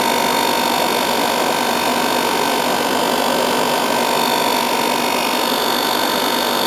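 An air conditioning compressor motor on a bike-mounted unit runs with a steady electrical hum and a constant buzzing drone, unchanging and close.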